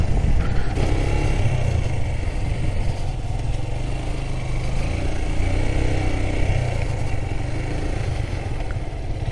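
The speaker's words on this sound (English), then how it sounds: "A lot of bikes and a lot of bikers." A large group of motorcycles on a breakfast ride between Bhubaneswar and Cuttack rumbles past in a steady, dense wash of engine noise and clatter, close and continuous with no clear gaps and no talking.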